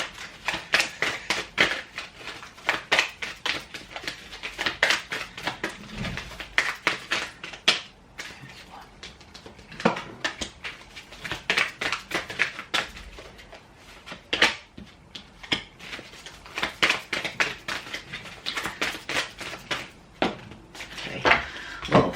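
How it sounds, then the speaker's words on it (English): A deck of tarot cards is shuffled close up, with repeated riffling and soft slapping bursts in an irregular rhythm over about twenty seconds, and no talking. "I'll just give it another quick shuffle and see what pops out"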